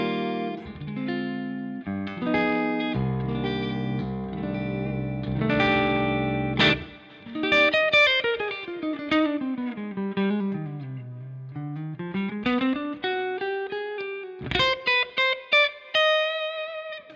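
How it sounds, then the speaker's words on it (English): Electric guitar through a super clean, almost DI-like Kraken amp in Neural DSP's Archetype Rabea plugin, chiming chords and single-note lines with sliding bends, a touch of chorus and reverb, played alone. "It is a super clean amp first,"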